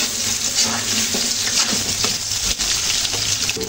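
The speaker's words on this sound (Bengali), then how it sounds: "আলু সবজিগুলো প্রায় বাদামি কালার করে ভেজে নিলাম" Potatoes and vegetables fry in a pan with a steady, close sizzle and occasional stirring scrapes, continuous throughout with no voices.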